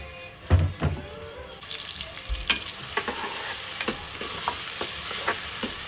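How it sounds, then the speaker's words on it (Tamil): Chopped onions go into hot olive oil in a kadai for a chicken masala curry, giving a steady sizzle with scattered spoon-stirring clatters and knocks, close and moderately loud, with no talking. "நறுக்கி வச்சுருக்க வெங்காயம் போட்டுக்கலாம்"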